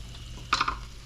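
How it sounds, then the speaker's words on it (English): Pasta being stirred in a pan during home cooking, a single short burst of scraping and sizzling about half a second long, close and moderately loud, with no talk. "Just give that one last quick stir"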